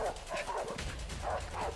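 Dog barking and yipping in the co-op video game A Way Out, several quick barks at close range that repeat steadily over the whole stretch.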